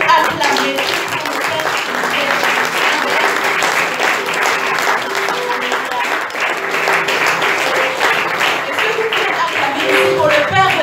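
A church congregation at a Sunday service breaks into steady, loud applause, many hands clapping together with a sustained roar, while a voice carries on speaking over it.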